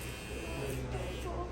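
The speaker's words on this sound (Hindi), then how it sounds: "वैसे ये सारी कटिंग है ट्रिमर वाली।" An electric hair trimmer cuts a child's hair with a steady, close, even buzz throughout.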